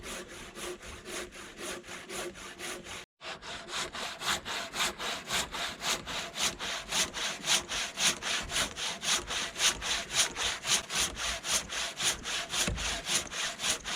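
A hand saw with unusually large teeth rips through wood in a steady rhythm of rasping strokes. It pauses once briefly, then resumes with louder, regular pulses.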